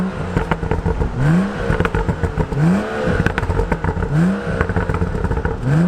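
A 2016 BMW M235i's six-cylinder engine blips repeatedly, four sharp rising revs at a regular rhythm, close and loud with crackling between pulls.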